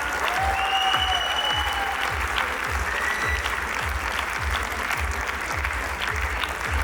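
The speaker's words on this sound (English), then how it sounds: "A big round of applause for our donors." Sustained audience applause at an opening ceremony honoring donors, a dense steady clapping that continues at even loudness throughout, with faint voices and background crowd murmur.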